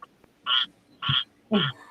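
A pet frog croaking three times in an even rhythm, each croak a loud, nasal, buzzing call about half a second apart, close and with no speech over it.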